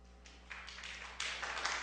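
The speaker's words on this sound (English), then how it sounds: "No clapping, please." Audience at a county board meeting clapping in a room, a short, faint patter of scattered claps that swells a little over a couple of seconds.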